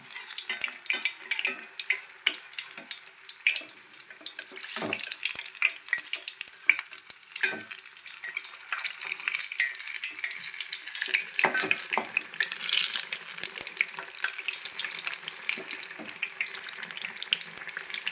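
Ajwain leaf bajji fritters frying in hot oil give off a steady, busy crackle of fine pops and spatters that runs without a break, alone and without talk.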